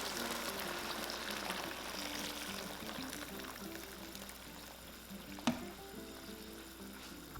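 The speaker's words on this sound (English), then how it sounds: "Now we're going to add hot boiling water." Steady rushing and bubbling of hot boiling water pouring into a pot of beef shank, a continuous hiss with one sharp clink partway through.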